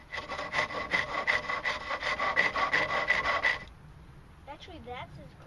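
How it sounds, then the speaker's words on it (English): Workbench lumber spinning on a wood lathe against a cutting tool, a rough rhythmic rasping scrape pulsing for a few seconds, then the cutting stops leaving a faint hum as a voice speaks briefly. "Actually, that's as quiet as the lathe is."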